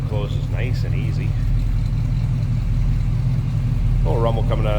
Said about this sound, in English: A little rumble coming out of that 400,